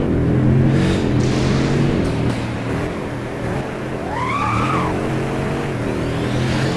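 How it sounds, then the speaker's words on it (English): A Pagani supercar in Roblox Driving Empire slides through a turn, its engine droning steadily under a rising and falling tire squeal that swells around the middle of the slide, with no voices. "You slip a lot easier with this car"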